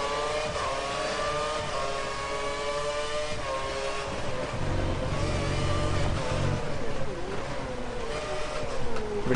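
Race cars launching at the start of a Formula-style racing game set at China, a loud, continuous layered engine whine rising in pitch as many cars accelerate together, steady and close with no talking.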